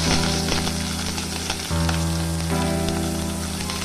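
Mustard seeds, dried red chillies and onion fry in hot oil for a Chow Chow kootu, making a loud, dense, continuous sizzle with crackling up close. A few bumps and shifts come from the pan, and nobody speaks.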